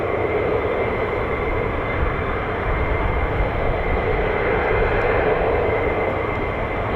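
F-35 fighter jet at RAF Lakenheath produces a steady, loud roar of jet engine noise that holds unbroken for seven seconds with no other sounds.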